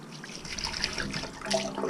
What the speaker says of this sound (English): Pour this water in.